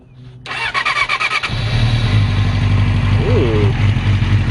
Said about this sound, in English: So we're going to go ahead and we're going to try to start it.